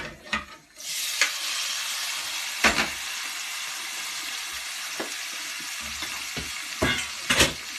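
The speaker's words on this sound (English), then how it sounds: "Add our parsnips." Parsnips sizzle steadily in spices in a hot pan, a constant crackling hiss broken by occasional scrapes and knocks of stirring.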